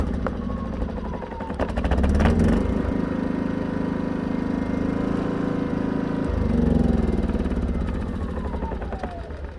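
A Ryobi RYI2300 inverter generator's small gasoline engine runs steadily after a cold-start restart, a loud close droning chug that swells slightly in pitch and load midway.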